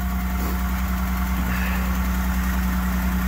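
BMW E39 engine idling after a cold start following a new clutch installation, a steady loud low hum with constant vibration throughout and no voices.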